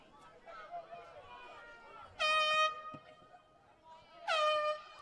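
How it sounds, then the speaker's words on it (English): Two loud, brassy air horn blasts sound during a boys soccer district championship game, each lasting about half a second, over crowd chatter and a commentator's voice. "We just heard our first air horn of the night, right as someone released that free kick."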